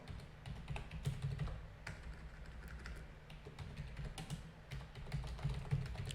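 Keys clatter in an irregular run of soft clicks on a computer keyboard while text goes into a website search box, fairly close and quiet over a low steady hum, with no voices.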